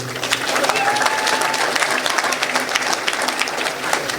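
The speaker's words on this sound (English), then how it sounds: "round of applause for that" Audience applause at a talk with Khabib Nurmagomedov, a dense, steady clapping that fills the whole stretch at a fairly loud level, with some voices mixed faintly into the crowd.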